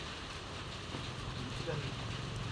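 A steady hiss of heavy rain falling on a roof fills the whole stretch, with murmured voices faintly beneath it.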